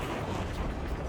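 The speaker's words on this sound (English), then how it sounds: "Did you see that explosion?" A big explosion in the Ace Combat 7: Skies Unknown air-combat game, heard as a dense, continuous rumbling roar that stays loud and even for about a second, with no voices.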